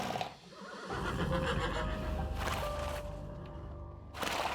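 Black horses pulling a cart whinny in a horror-story sound effect, a drawn-out, wavering neigh rising over a dense rumbling backdrop, loud and close, followed by a second burst.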